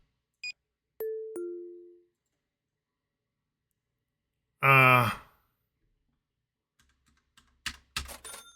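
A soft two-note door chime rings once in a quiet shop simulator game, followed by a brief sigh and a few scattered computer keyboard clicks.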